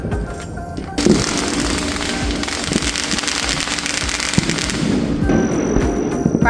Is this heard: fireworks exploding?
yes